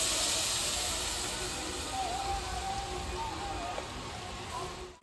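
Raw mango mixture sizzling in a hot wok set on a stove, a steady broadband hiss and crackle of frying that holds loud and even for about five seconds.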